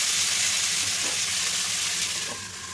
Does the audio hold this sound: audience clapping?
no